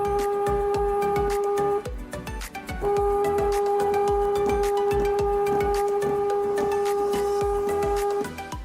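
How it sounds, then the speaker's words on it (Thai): TSC TTP-244 Pro barcode label printer calibrating and feeding labels, giving a steady rapid mechanical clatter with a sustained whistling tone that drops out briefly midway and then resumes, close and alone. "วิธีการคาลิเบรตนะครับกดฟีดค้างไว้จากนั้นกดเปิดเครื่องนะครับ"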